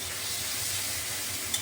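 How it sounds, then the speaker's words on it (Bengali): Eggplant pieces frying in oil in a pan, a steady, soft sizzle and hiss throughout at moderate level with no talking. "এখন বেগুনটাকে আমি একটু লাল করে ভেজে নিচ্ছি।"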